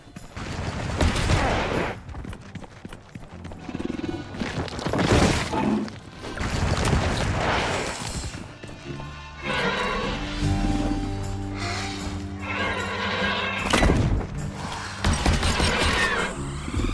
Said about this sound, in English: The bombs are the way to go.